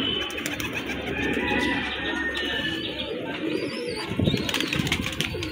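Pigeons in a loft in Rajshahi coo in low, throaty bursts, with flurries of wing flapping close by and louder flaps near the end.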